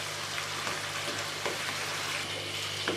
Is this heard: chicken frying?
yes